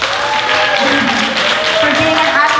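Graduation ceremony audience at FilGrad 2014 giving the parents a round of applause: steady, dense clapping from a large hall crowd, continuous throughout with faint voices and tonal sound mixed underneath.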